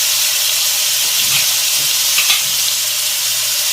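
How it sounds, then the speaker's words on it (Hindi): Chopped onions and green chillies fry in hot oil in a pan for white mutton karahi, a steady loud sizzle with faint stirring scrapes, no talking. "मैं शामिल कर रही हूँ 2 अदद चॉप की हुई प्याज, और साथ ही साथ में इसमें डाल रही हूँ 2 से 3 अदद हरी मिर्चें, और इसे हमें अच्छी तरह फ्राई करना है"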